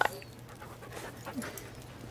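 Sled dog Iggy in the snowy video game The Red Lantern pants steadily while being petted, a close, soft rhythmic breathing with faint whimpers, mostly alone.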